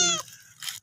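A cat gives a short, close meow, followed by a brief quieter second cry in a quiet indoor space.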